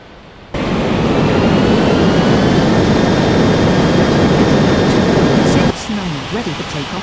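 An Etihad jet airliner at the airport powering up for takeoff, a loud steady engine roar with a whining tone that starts abruptly and cuts off after about five seconds, followed by quieter rumble.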